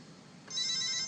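A phone ringtone suddenly starts up partway through, a bright electronic tone ringing steadily over a quiet room background.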